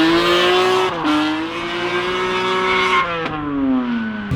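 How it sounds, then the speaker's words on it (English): A BMW E46 drift car with an S54 engine drives loud and close, its engine droning steadily with pitch shifts as it accelerates and backs off, a sharp break near one second and another near three. "I'm probably gonna just drive down the block and drag the pad really hard to get it hot"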